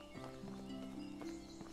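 Horses walking in the medieval video game Medieval Dynasty at a horse dealer's place, with soft hoof clops spaced over a steady tonal game ambience, moderately close and not loud.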